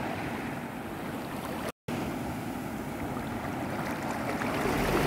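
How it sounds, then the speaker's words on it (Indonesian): Soft, continuous surf washes on a beach at Pantai Air Dingin, Tapaktuan, South Aceh, in the distance, a low rushing roar with a brief dropout, faint and without voices. "Anda bisa menikmati deburan ombak di sini sambil mandi"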